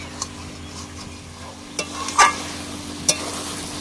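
Green butter chicken masala stirred and sautéed in a pan, with a low background sizzle and a few sparse, sharp scrapes and clinks of the spoon. The sounds are fairly quiet and close, and no one speaks.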